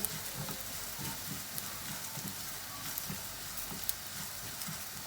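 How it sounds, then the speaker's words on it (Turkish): Vermicelli roasts in oil with caramelized onions, a faint, even crackling sizzle like light rain, punctuated by small ticks as it is stirred. "Şehriyemizi kavurmaya devam ediyoruz."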